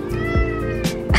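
A house cat meows loudly and close by, giving three drawn-out calls in a kitchen while people talk excitedly around it.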